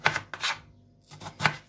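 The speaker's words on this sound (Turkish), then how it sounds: "Hemen patateslerimizi doğrayalım arkadaşlar." A knife chops peeled potatoes on a cutting board in a home kitchen, four or five soft crisp cuts in an uneven rhythm with a brief pause midway, close and fairly quiet.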